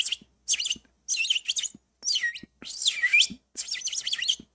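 A bird gives a series of about seven bright, rapid chirping bursts in an irregular rhythm, close and fairly loud, with short silences between the calls.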